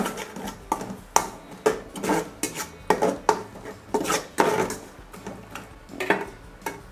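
Homemade green curry paste is stir-fried in a pan, a spatula scraping and knocking against the metal in quick, regular strokes, close and fairly loud, with no voices.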